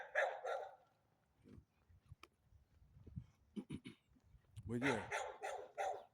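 A German Shepherd barks a few times at a moderate distance in an uptown neighborhood of Evansville, Indiana, with the short barks mixed under a man's speech.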